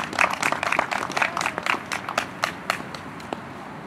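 Audience applause for Nicole Johnson at a Children's Grief Awareness Day event in Northeast Ohio, a burst of clapping that thins and fades over a few seconds.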